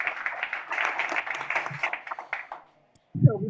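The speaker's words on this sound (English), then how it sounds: "let's give a round of applause to this amazing panel discussion" Applause from an audience at the close of a startup panel discussion hangout, a dense steady patter of many hands lasting a few seconds before stopping abruptly, followed by a low thump.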